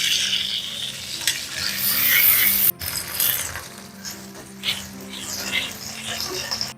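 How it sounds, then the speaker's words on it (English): Garlic, anchovies and cherry tomatoes sautéing in a pan, a steady close sizzle with stirring scrapes that ease off briefly partway through, and no talking. "3 sliced garlic cloves, and saute them for no more than 1 minute."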